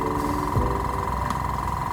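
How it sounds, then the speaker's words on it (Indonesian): A mini airbrush compressor, model AF 186, with its motor running steadily after the air pressure dropped, a continuous mid-pitched mechanical hum with a faint rattling vibration, close and alone. "karena ini tekanannya turun ya, karena tadi ya ada udara yang kita keluarkan, maka mesin bekerja"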